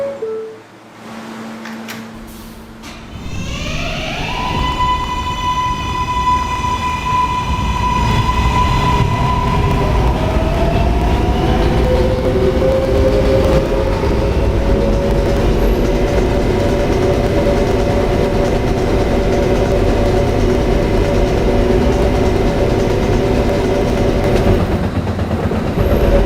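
A Potato City Subway K train runs between stations toward Herald Square. Rising electric motor whines climb as it accelerates, then settle into a loud, steady rumble and rattle of wheels on track that continues without pause.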